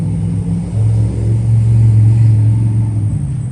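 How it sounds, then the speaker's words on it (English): Road traffic passes near a rural air-rifle shooting spot, a loud low rumble that swells and lingers for several seconds. "Got some traffic coming through."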